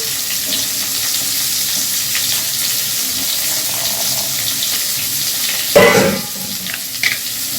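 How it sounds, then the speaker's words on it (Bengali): Cauliflower florets frying lightly in a pan for navratan korma make a steady, fairly loud hiss of hot oil, with a sudden clatter of a utensil near the end and no speech. "আমার ফুলকপিগুলো হালকা ভাজা হয়ে গেছে"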